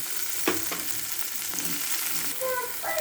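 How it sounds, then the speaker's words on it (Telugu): Ginger garlic paste sizzles and crackles in a hot pan, with a few scrapes and taps from a stirring spoon over the steady frying hiss. "అల్లం వెల్లుల్లి పేస్ట్ ఇలా బాగా వేగాక"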